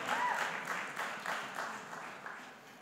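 A church congregation claps together in a worship service, a dense, steady wash of applause with slight surges that gradually thins out over a few seconds.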